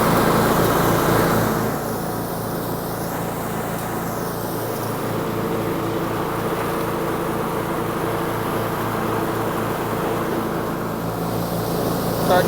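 A Cub Cadet XT1 riding mower runs with its blade engaged while washout water sprays underneath the deck, making a steady droning engine hum mixed with a broad rushing hiss of water, loud and continuous throughout.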